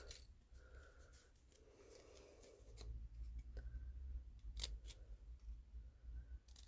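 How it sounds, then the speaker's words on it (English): Paper snips clip the end of a strip of 12x12 patterned paper, giving a few sharp, close cuts spread across a quiet background. "I'm just going to clip mine with my paper snips."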